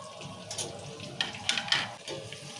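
Masala paste and eggplant sizzling in hot oil in a pan, with a steady frying hiss and a few scraping stirs through the middle, close and moderately loud, with no talking.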